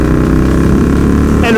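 A KTM 1290 Super Duke R twin-cylinder motorcycle held at full throttle in fifth gear, its steady loud engine roar running continuously with a voice talking over it near the end.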